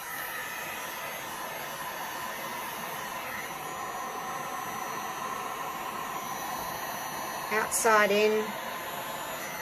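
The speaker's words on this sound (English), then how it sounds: "let's get the torch out and see if we can move these, heat them up a little bit and get them puffing up" A torch heating resin in 3D flower coasters: a steady, loud hissing roar of flame close by, with a voice briefly speaking over it near the end.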